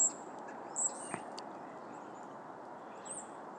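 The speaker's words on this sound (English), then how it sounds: "Beautiful birds." Wild birds in Michigan on a winter morning give a few thin, high chirps spread over a steady outdoor hiss, faint and somewhat distant.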